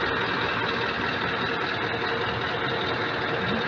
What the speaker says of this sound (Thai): สดจริงเสียง V8 นะครับ